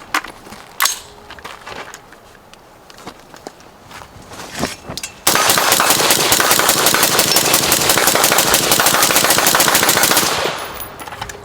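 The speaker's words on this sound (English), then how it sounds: "So we're gonna do 210 rounds as fast as I can pull the trigger, see how this thing performs, how it sounds." A rifle fitted with an Energetic Armament Ferox suppressor fires a long, rapid string of shots in a dense, loud, even rhythm for about five seconds, preceded by scattered clicks and handling noises and ending abruptly.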